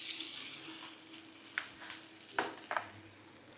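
A steak fries in a pan, turned on both sides with tongs during a cooking masterclass. A soft, steady sizzle runs throughout, broken by a few sharp clicks and clinks near the end.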